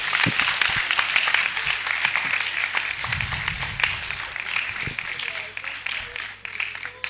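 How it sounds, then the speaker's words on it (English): A conference audience at an annual New Year School claps in sustained, dense applause that fills the hall from start to finish, with a voice speaking over it near the middle. "Another round of applause for him."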